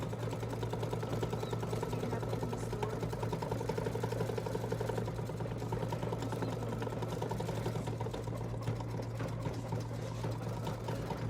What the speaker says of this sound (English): We'll just watch it sew for a little bit